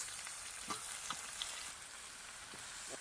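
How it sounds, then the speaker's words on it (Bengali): Chicken fries with jackfruit and potato in a pan, a soft steady sizzle punctuated by a few faint scrapes of stirring, with no voices. "ধীরে ধীরে মাংসটা কষাই নেবো"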